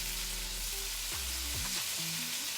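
Steak laid into a hot pan of THC-infused oil sizzles steadily, a close, continuous frying hiss with no talking.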